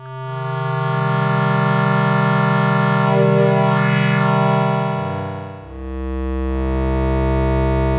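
A sustained, buzzy synth pad built from a filtered pulse wave, holding steady chords with a brief dip before shifting to a new, lower chord.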